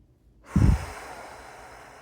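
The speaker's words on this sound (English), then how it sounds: "Deep breath in and out." A single deep breath in a myofascial stretching class, one soft whooshing sigh rising and fading over about a quarter second, close and fairly quiet against a faint room hiss, with no voices.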